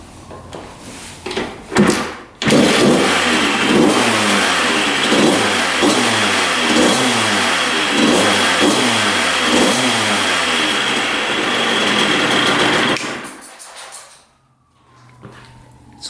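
A two-stroke dirt bike engine with a failing head gasket, leaking coolant from the head, fires up and revs loudly for about ten seconds in choppy, rising bursts before cutting off and falling quiet.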